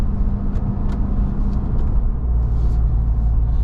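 RAM 1500 TRX pickup with a 6.2-liter supercharged V8 Hemi, a deep continuous engine rumble from inside the cab while driving, steady and loud with faint higher whine and no talk.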